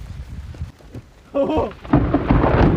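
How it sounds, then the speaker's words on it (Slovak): Outdoor hailstorm with heavy rain and thunder, a steady dense roar of falling hail and rain with low rumbles that swell loud near the middle and end. "To sú krúpy, kámo, prisahám."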